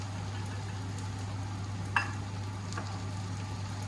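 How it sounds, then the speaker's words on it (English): Tomato sauce being stirred into chicken and rice in a pot, a soft steady scraping and bubbling with a faint sizzle, with one brief clink of the spoon near the middle and a low hum underneath. "We're just gonna mix this around."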